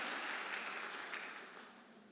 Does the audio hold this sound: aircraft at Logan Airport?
no